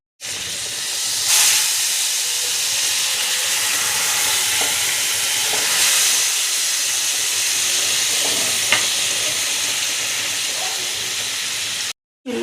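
Fish roe sizzles in a covered pan over a medium-low flame after being flipped, a continuous loud hiss with occasional soft pops and knocks, cutting out briefly near the end; no talking.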